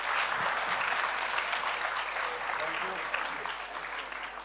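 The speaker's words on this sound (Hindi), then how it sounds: "तालियां इन द मीन टाइम बजा सकते हैं।" An audience at a quiz event in Jaipur claps steadily, a dense wash of applause that holds fairly even before easing slightly toward the end, with some voices faintly mixed in.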